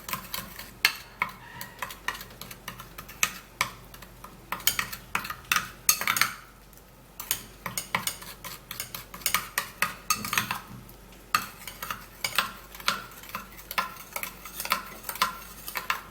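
A homemade skin-care paste for dark spots is stirred and scraped in a bowl, producing busy, close clinking and scraping strokes that run steadily with a few brief pauses, and no voices.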